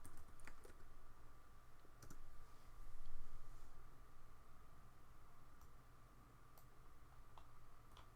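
Quiet, scattered keystrokes and clicks on a computer keyboard while entering a command in AutoCAD 2018, soft and intermittent over a steady low background hum.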